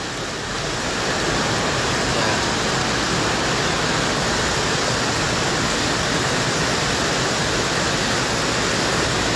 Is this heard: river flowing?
yes